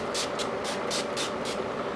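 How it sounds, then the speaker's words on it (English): Several short hissing bursts of NYX Long Lasting Dewy Finish setting spray, applied in quick succession at close range, each puff clearly separated by brief pauses over steady room noise. "I'm just gonna shake it a little bit and then I'm gonna spray."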